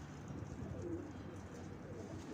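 Pigeons coo softly in a rooftop bird loft, a low murmuring call set against steady background noise and low rumble.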